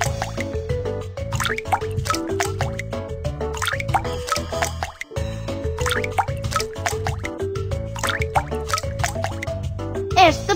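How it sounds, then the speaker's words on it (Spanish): In a cartoon cooking game, tap water runs while apples are washed, heard as a steady patter of bright drips and plops layered over cheerful background music. "Pulsa sobre el grifo de agua."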